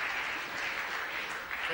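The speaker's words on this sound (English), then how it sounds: "The applause coming from adjoining match as Pulman slams down a black." Faint applause drifts in from an adjoining snooker match at a 1973 tournament in Norwich, a soft distant patter of clapping that holds steady and stays quiet throughout.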